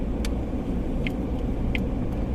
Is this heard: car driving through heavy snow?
yes